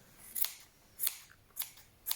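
Scissors snip four times in a steady rhythm, close and crisp, as they trim the stray tails and ends off a shaggy yarn pom pom, with no voices.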